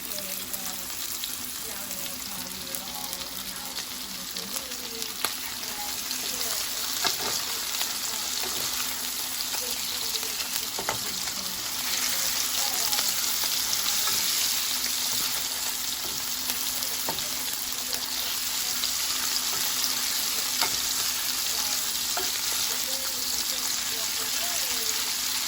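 Meatballs frying in olive oil in a pan for homemade spaghettios, a steady close sizzle and crackle with occasional stirring scrapes running throughout.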